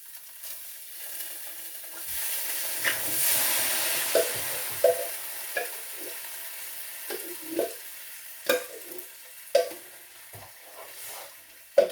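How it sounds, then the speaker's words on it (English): Coconut milk hits a hot pan of satay curry with tomato puree, hissing and sizzling steadily while a spoon scrapes and stirs in repeated clinks nearby. "And now I'm going to add in the coconut milk."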